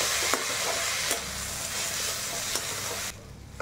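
Boiled Maggi noodles tossed in a frying pan, a dense continuous sizzle with a few soft spatula taps, close and loud, dropping off abruptly at the end.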